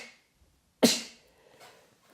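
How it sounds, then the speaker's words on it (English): A single sharp sneeze bursts out close by after a moment of near silence, fading over about half a second, with faint room tone afterward. "I'm going to sneeze, excuse me."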